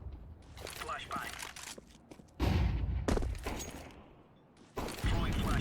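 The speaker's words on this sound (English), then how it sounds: "Flashbang." A flashbang grenade detonates in a tactical video game, a sudden loud broadband burst near the middle followed by another sharp blast later, over clattering gear and game noise with a voice talking underneath.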